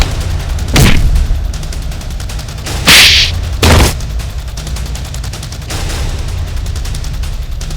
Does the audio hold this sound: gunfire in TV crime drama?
yes